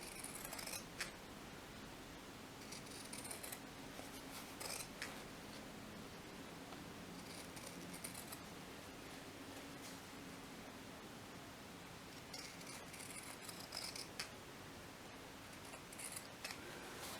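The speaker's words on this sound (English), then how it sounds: "you can use a pinking shear. So just go along the edges." Pinking shears snip along fabric edges in faint, scattered cuts over a steady hiss of background noise.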